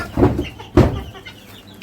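Chickens giving two loud, close clucks about half a second apart, then a quieter stretch of farmyard background.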